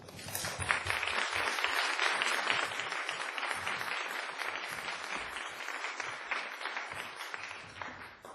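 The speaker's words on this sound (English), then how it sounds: "round of applause for the launch team and the work team" A Sunday Assembly congregation in Pittsburgh applauds its launch and work teams, with dense, sustained clapping from a sizeable audience filling the room evenly, holding steady throughout.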